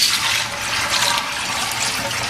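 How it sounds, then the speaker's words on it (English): Fractionated coconut oil pours steadily into beeswax for a 10 kilogram batch, a continuous hissing liquid stream heard close up and fairly loud, without pause for the whole moment. "And in with the beeswax goes the fractionated coconut oil."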